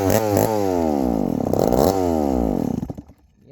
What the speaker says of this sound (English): she don't want to idle, guys